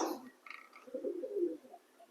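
Domestic pigeons let out soft, low cooing calls up close on a rooftop on a rainy day, a brief rolling coo rising out of otherwise quiet surroundings.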